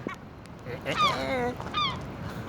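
Geese honking near tall buildings in Vancouver at night, two loud nasal calls in quick succession close by, over faint background noise.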